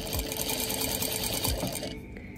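A sewing machine stitches sleepwear fabric in a rapid, steady run of needle clatter, close and fairly quiet, with a few soft clunks and the motor cutting out near the end.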